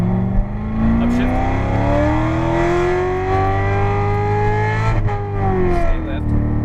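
A Corvette Z06 pulls hard around the Las Vegas Motor Speedway track, its loud engine note climbing steadily through the gears with a brief dip at a shift, heard from inside the car.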